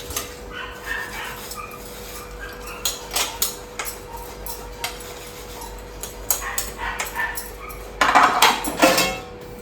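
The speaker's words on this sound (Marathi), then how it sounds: "फटाफट आता भांडी घासते मी" Dishes and utensils are scrubbed and washed in a home kitchen, with clattering and scraping throughout and a dog barking and whimpering nearby. The clatter grows louder and denser near the end.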